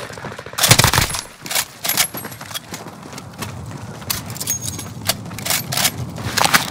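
PKM machine gun firing in Call of Duty Warzone, a steady stream of sharp shots with a metallic clatter over game noise, with a few louder bursts near the start.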